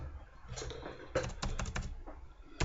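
Keys clatter on a computer keyboard as text is typed into a price table, a short close-up burst of quick irregular clicks with a few brief pauses.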